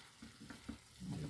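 Cauliflower being stirred in a pan for a baked cauliflower tajine, soft scraping strokes over a faint sizzle, quiet and brief with no talking.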